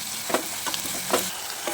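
Green chillies, curry leaves and salt frying in a pan: a bright, steady sizzle with a few quick stirring strokes, close and fairly quiet, no talking.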